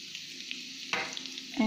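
A tadka of cumin seeds and hing sputters in hot oil for an Andhra-style gongura chutney, a bright close sizzle that jumps louder as more goes into the pan near the end.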